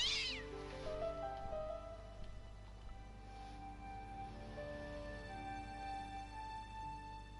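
A cat's short meow at the very start, then a long stretch of steady tonal background music with no further calls.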